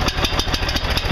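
A tiller's small engine fires up after a pull-start and runs at a steady, rapid idle, its loud chugging pulses repeating evenly with no talk over it.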